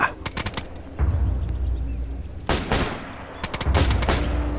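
Rifle gunshots in the survival video game DayZ, several sharp loud reports in separate clusters, with a wolf hunt going on, each shot followed by a short decaying tail.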